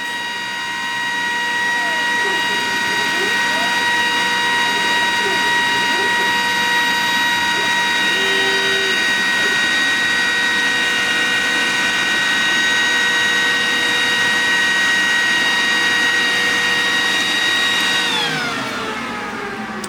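A Glowforge Pro laser cutter cutting while its exhaust fan extracts smoke, giving a loud, steady whirring drone with a high tonal whine that runs throughout and winds down at the very end.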